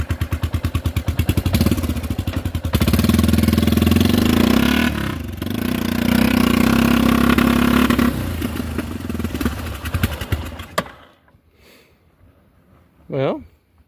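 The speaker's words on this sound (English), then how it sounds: "it made a turbo sound" A turbocharged Yamaha Big Bear ATV engine revs hard and loud up close, a steady rattling roar with clattering that holds for about ten seconds and then cuts out, followed by a brief rising whine.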